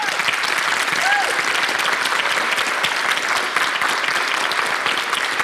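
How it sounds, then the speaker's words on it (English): Continuous dense applause from a gubernatorial debate audience in Ohio, loud and even throughout, with a faint voice briefly audible beneath it. "I know it's fun to clap, but if we can hold the applause until the very end, we would appreciate it"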